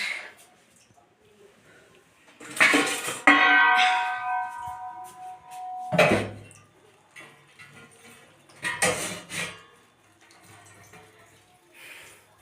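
Pots and utensils clatter while a small chuno fish curry is cooked in a home kitchen, scattered clanks and rings in a few bursts with a sustained ringing tone and quiet gaps between.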